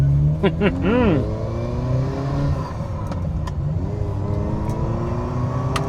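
A Ferrari Mondial's engine rises as the car pulls away, a mid-pitched rev building and then settling into a steady drone, with someone talking over it at the start.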